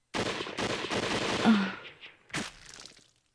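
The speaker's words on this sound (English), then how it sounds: "Then I heard the furious bangs of a group of guns firing at once" In the Hakuoki video game, a group of guns fires at once: a rapid, ragged burst of loud bangs rolling for about a second and a half, followed by one more sharp crack after a short pause.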